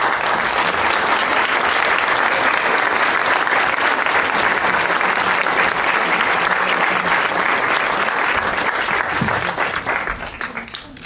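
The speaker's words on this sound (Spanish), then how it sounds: "le pido un fuertísimo aplauso" A large festival audience applauds in welcome as filmmaker Abbas Kiarostami arrives to receive the Filmoteca UNAM medal, dense sustained clapping filling the hall at full strength before beginning to fade near the end.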